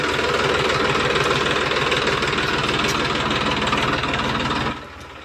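An Eicher 380 tractor engine runs hard in village mud, a loud, steady knocking diesel chug that holds for several seconds before suddenly dropping to a quieter idle near the end, with no talking.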